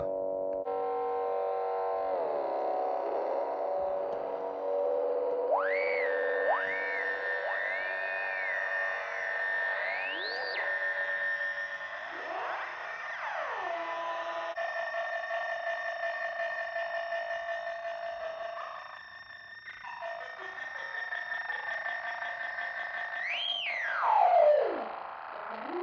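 Several little electronic sound modules are chained together, giving layered sci-fi tones: a buzzy drone with sliding, wobbling pitches, rising and falling sweeps and a warbling pulse, steady and loud throughout with no one talking.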